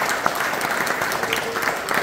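Dense, steady applause from an audience at a Franco-Chinese exhibition reception, continuous clapping filling the whole short stretch at an even level.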